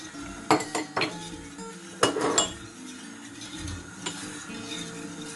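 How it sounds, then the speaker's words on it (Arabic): A spoon stirs sugar into orange juice with passion fruit for a summer dessert, giving a few sharp clinks against the container, a cluster near the middle, then quieter scraping with no talk. "Ik ga een lepel suiker bij toevoegen bij die sinaasappelsap."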